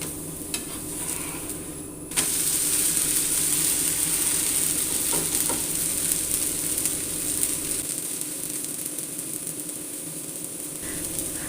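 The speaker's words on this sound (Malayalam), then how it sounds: "അങ്ങനെ നമുക്ക് എല്ലാ ദോശകളും ഇതേപോലെ മുറിച്ച് ചുട്ടെടുക്കാം" Dosa batter frying on a hot pan: a steady, bright sizzle close by, with a metallic clink early on and soft scraping and stirring sounds.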